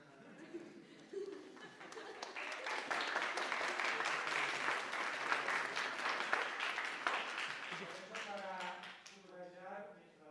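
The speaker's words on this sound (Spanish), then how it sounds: "Un gran aplauso." Audience at an academic history conference in a university department claps after a talk, the dense applause rising quickly, holding steady, then tapering off as a speaker begins talking near the end.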